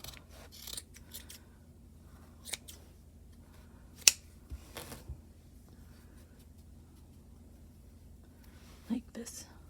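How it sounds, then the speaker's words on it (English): Heavy duty scissors snip through crocheted yarn while trimming a baby beanie, giving a few sharp, close cuts scattered among quiet handling sounds. "Now we're going to cut this using heavy duty scissors"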